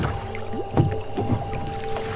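Small boat rowed by a woman on a river, with soft oar splashes and gurgling water strokes over a steady low hum, close and moderately quiet, without any talking.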